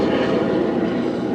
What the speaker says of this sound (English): Your taxes for Los Angeles Police Department helicopters to buzz over me day